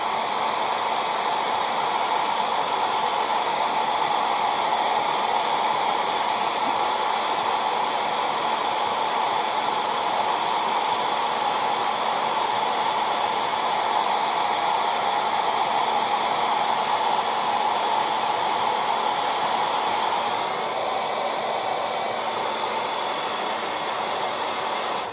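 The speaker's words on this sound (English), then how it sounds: "Let's use the dryer." A hair dryer blows steadily and loudly for the whole stretch, a constant rushing whoosh with a faint whine and no pauses.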